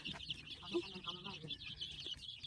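Chickens cluck and chirp softly inside a chicken coop, a faint cluster of fowl calls in the background with a quiet voice speaking over them.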